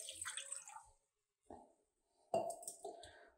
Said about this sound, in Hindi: ये हमने सासपान लिया है और 1 गिलास ये हम पानी का डालेंगे इसके अंदर।